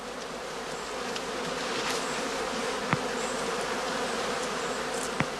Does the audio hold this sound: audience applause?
no